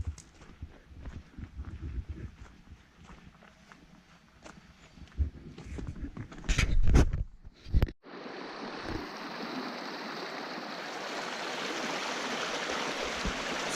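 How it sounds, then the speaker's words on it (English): Small, crystal-clear river in a forest, first heard under crunching footsteps and handling noise, then a steady rushing flow taking over close and loud for the rest. "It's not a big river, but that water is so crystal clear."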